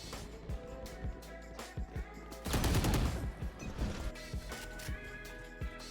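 Gunfire from a video game: rapid sharp shots in quick succession, with a dense loud burst of firing near the middle and scattered single cracks before and after.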